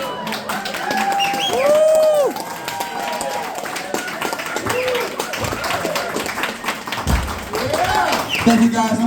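Scattered audience clapping at a small live music show, mixed with a singing voice and shouts, the claps uneven and mid-distance under the performance.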